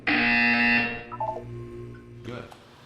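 A loud electronic buzzer from the video game Portal 2 blares for about a second, then fades into softer descending tonal chimes and a short final blip.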